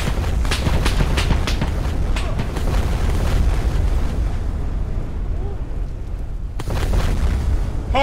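A napalm strike in the ARMA 3 war game erupts as a heavy, sustained rumbling roar of fire and explosion, loud and dense throughout, with a sharp fresh burst near the end.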